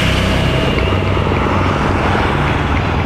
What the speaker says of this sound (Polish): Jeszcze gdzieś helikopter leci.